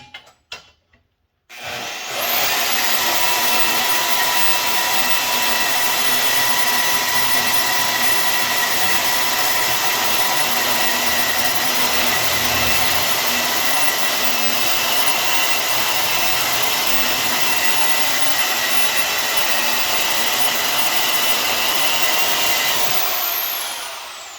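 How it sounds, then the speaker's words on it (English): A portable band saw cuts through metal support braces for a splitter upgrade on a third-generation Camaro, a steady loud whining cut starting after a brief clatter and running nearly continuously to the end, with no talk. "bust out the part band and use it, because I don't know, been a while since I cut some straight cuts"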